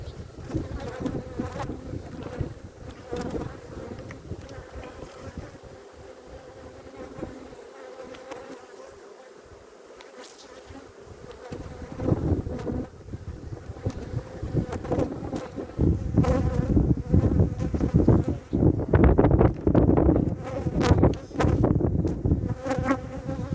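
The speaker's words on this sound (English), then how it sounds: "starting to check the swarm trap out, at least some scout bees from somewhere" Honey bees, including scouts, buzz around a swarm trap outdoors, a dense continuous drone of many insects close to the microphone, swelling louder toward the end with some wind noise.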